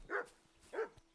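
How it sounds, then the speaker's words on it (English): Two quick, fairly faint dog barks in a video game, spaced about half a second apart and otherwise quiet. "Okay, that was a dog."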